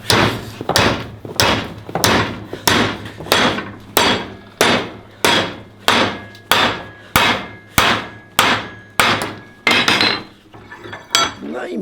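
A blacksmith strikes cold steel on an anvil while forging an axe from railway leaf springs, landing about a dozen loud, ringing hammer blows at a steady, regular pace, close by and with no talk.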